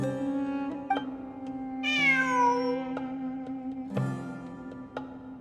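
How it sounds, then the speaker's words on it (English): A cat meows within the Genshin Impact video game, with a clear rising-falling meow in the middle and short chirp-like cries around it, set against a steady musical drone. "I'm not hearing things. It really is a cat."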